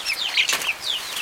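Chickens cluck and squawk in short bursts amid a flurry of flapping wings, close by, with no talking.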